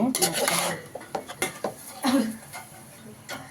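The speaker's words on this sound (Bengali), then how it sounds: "বাদ দিয়ে এখন ভালো করে নেড়ে চেড়ে নেওয়া হচ্ছে" A utensil scrapes and clatters against a pan while fried rice is stirred, producing irregular close metallic knocks and rasping scrapes, with a voice speaking over the cooking.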